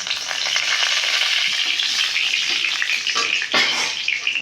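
Dry red chillies, a bay leaf, a cinnamon stick and cardamom pods crackle and sizzle in hot oil, a steady close frying hiss with occasional sharper spits and brief stirring scrapes, no voices.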